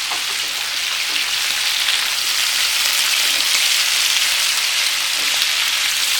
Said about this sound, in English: So my heat is high heat. So I want all the onion and peppers to char a little bit.